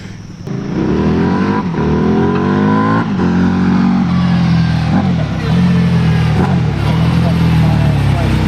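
A motorcycle engine on display at a motorcycle museum revs loudly up close, climbing and falling through repeated throttle blips over a sustained roar.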